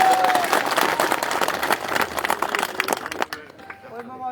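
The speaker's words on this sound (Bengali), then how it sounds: "সবাই জোরে একটি হাততালি দিবেন।" A crowd at a political rally in Rajibpur applauds for engineer Abdul Majid, sustained dense clapping that ends abruptly as a speaker's voice takes over on a loudspeaker.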